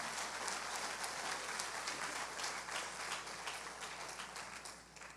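A church congregation applauds at a Sunday service, steady dense clapping from many hands at a distance that holds throughout and slowly fades toward the end.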